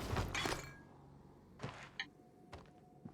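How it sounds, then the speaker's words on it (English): A sofa crashes through glass in the video game Prey, opening with loud breaking and shattering. A few quieter thuds and clinks follow as the debris settles, with no voices. "I haven't yeeted the sofa through a window."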